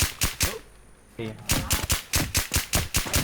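Rapid bursts of gunfire in the video game Infestation Fantasy crack in quick succession, loud and close, with a short pause and a brief mechanical clatter in the middle.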